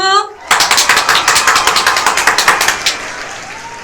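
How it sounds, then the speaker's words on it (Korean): Children at a church children's-department worship service clap together in a quick, regular rhythm of about two dozen sharp claps, close and loud, after a short voice at the start. "다 같이 박수!"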